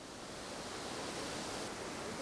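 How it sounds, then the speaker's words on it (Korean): Steady broadband roar of a 78 m waterfall at the end of a trail in Plitvice, Croatia, a dense continuous rush of falling water filling the clip with no voices. "탐방로 끝에 있는 폭포입니다."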